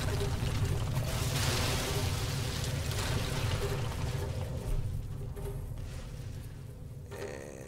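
Water pours steadily in a Tomb Raider game, a continuous splashing rush lasting several seconds that slowly thins toward the end, with no talking.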